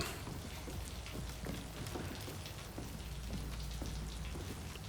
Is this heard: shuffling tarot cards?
no